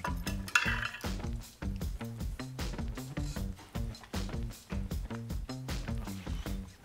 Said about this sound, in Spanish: Voy a revolver bien para que se integre con la leche, el café y las especias